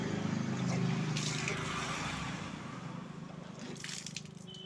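Water gushes out of the mouth during kunjal kriya, a yogic stomach-cleansing practice done for acidity, a close, splashy pouring that gradually tapers off over a few seconds.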